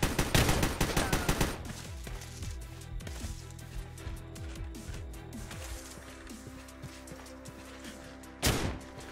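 Rapid gunfire bursts from a Minecraft zombie apocalypse game, dense loud volleys in the opening seconds, then scattered shots and clatter, with one sharp blast near the end.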